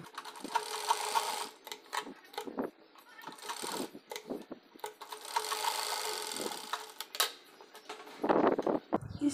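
A sewing machine runs straight stitches along the folded waistband casing of a dhoti salwar, whirring in steady bursts with brief pauses between runs, close and fairly quiet.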